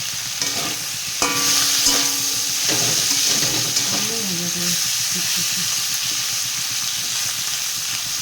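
Small potatoes fry with onion and garlic in a pan, a steady sizzle with stirring scrapes, while a voice hums or speaks briefly near the start.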